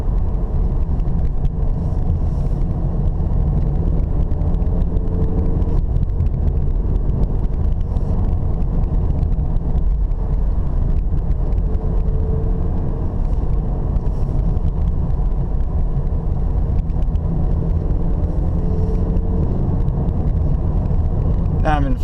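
A Cadillac CT4 in fourth gear climbing a winding mountain road on Mount Umunhum gives a steady loud engine and road drone heard from inside the cabin, with wind noise throughout.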